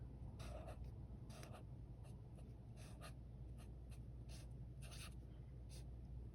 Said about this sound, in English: here I'm gonna write like big letters